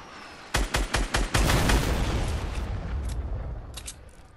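A rapid burst of about five loud gunshots rings out in the video game Fortnite, followed by a longer rattling volley that trails off with a few scattered shots.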